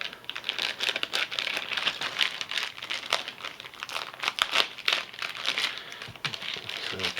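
Plastic packaging around a planer bobber fishing rig crinkles and crackles up close as it is opened, in irregular bursts of crumpling with no talk.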